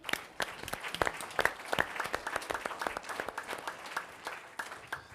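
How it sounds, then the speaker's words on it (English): A symposium audience applauds its sponsors, a moderate-sized crowd clapping with distinct, sharp individual hand strikes standing out in a steady patter, somewhat distant and quiet. "Let's give them a round of applause."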